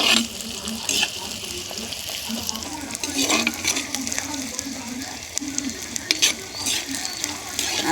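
Fenugreek seeds and oil sizzling in a pan for fish kolambu, a bright continuous fry with scraping stirs and small clatters of the spoon, close and moderately loud, with a voice talking briefly.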